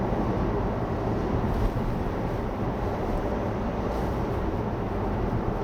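A 2016 DS5 cruises at around 80 to 90 km/h near 1,200 to 1,300 rpm. A calm, low engine drone blends with steady tire rumble on the road surface, constant and unbroken.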